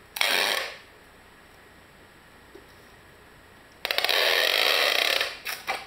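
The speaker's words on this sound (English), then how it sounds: "just grab some packing tape and run it over the seam." Packing tape is pulled from a roll and pressed over a seam, a short loud ripping screech, then near silence, then a longer tearing pull that ends in a few quick rasps, close up.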